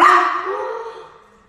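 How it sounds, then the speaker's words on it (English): A single loud dog bark or yelp sounds up close and fades away over about a second and a half, with nothing else around it. "I got you a dog"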